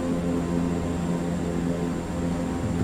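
Turboprop drone of a fully loaded CL-415 Super Scooper climbing out in Microsoft Flight Simulator 2024, a steady, even engine and propeller roar that holds constant throughout with no talk.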